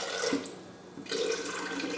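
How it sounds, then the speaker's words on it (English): Water is poured into an Oster blender jar, a steady splashing pour heard close up with no talk, briefly easing midway before resuming at full strength. "you're really going to need to start it off with some water"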